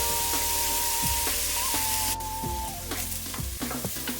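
Onions sweating in a pan over medium heat, a soft steady sizzle with intermittent tonal scrapes and clinks of a utensil stirring, close and without voices.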